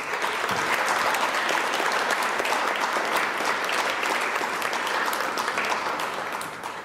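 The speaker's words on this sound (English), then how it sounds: "give them a big round of applause" Sustained, dense applause from a community-center audience at a regional civics bee competition, steady and loud throughout before tapering slightly at the very end.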